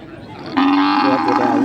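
A cow lets out a single loud, drawn-out moo at a cattle and buffalo market in Thailand, rising sharply and holding close to the listener over a low background murmur.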